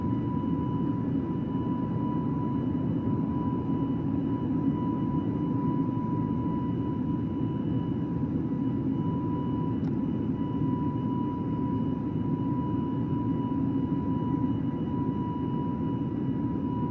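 Airbus A320 (FBW A32NX) in Microsoft Flight Simulator taking off from Fort Lauderdale and climbing, a steady loud engine drone with a constant whine, unbroken throughout with no talk.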